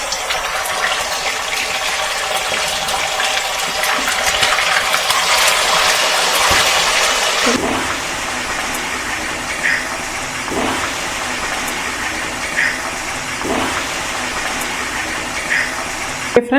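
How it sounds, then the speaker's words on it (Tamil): Marinated chicken is lowered into hot oil for deep frying, setting off a loud, steady sizzle that suddenly drops at about seven seconds into a softer, continuous bubbling hiss with occasional pops. "ஆயிலில் போட்டுடலாமா சிக்கனை?"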